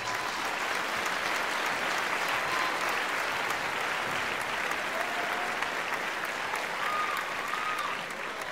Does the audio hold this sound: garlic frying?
no